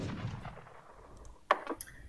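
A single sharp shot from falconet artillery in Age of Empires III, a brief crack midway followed by a smaller echoing report, faint and alone against a quiet game background.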